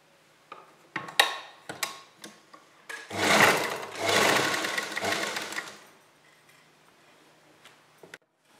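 A sewing machine sews the side slits of a long kurti, a few light clicks and taps leading into a close, steady whirring run of about three seconds that winds down to quiet handling sounds.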